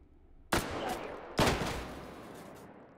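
Two sharp gunshots from a firearm in the virtual reality game Hot Dogs, Horseshoes & Hand Grenades, each with a ringing echoing tail, spaced a little under a second apart.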